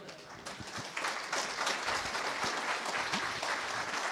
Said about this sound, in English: I really want everyone to give Alan very big applause